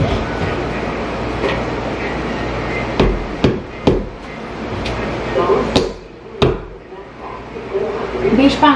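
Sharp, loud knocks of pins being driven with a makeshift tool in place of a hammer, arriving in an irregular cluster of strikes over steady room noise.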